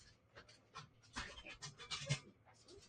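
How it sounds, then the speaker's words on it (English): A small puppy pants rapidly and scratches at a door from indoors, quick breathy huffs and light scuffs close by, fairly quiet with no talking. "Cute little pup."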